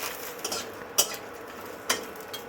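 Fish bori dumplings fry in a small amount of oil in a pan, a soft steady sizzle close by, punctuated by a couple of sharp clinks of a utensil against the pan, with no talk.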